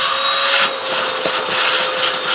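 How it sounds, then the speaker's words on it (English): Steady broadband whoosh of a vacuum cleaner sucking out the grinder chamber of a Breville Barista Express espresso machine with the inner burr removed, continuous and close, with slight surges in intensity. "vacuum out the inside as well."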